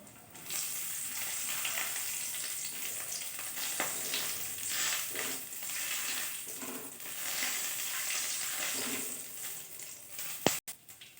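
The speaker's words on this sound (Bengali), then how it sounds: "এই কাজুগুলোকে এর মধ্যে আমি ভেজে নেব" Chopped cashews sizzle steadily in hot melted ghee for carrot halwa, a close, continuous frying hiss broken by a few stirring scrapes and a sharp clack near the end.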